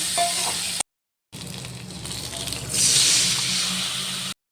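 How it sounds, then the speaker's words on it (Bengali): Pumpkin pieces hit hot panch phoron in oil and sizzle loudly. There is a brief silent gap, then a steady crackling hiss that swells louder near the end. "পাঁচফোড়নটা গরম হয়ে গেলে দিয়ে দেবো কেটে রাখা কুমড়োগুলো"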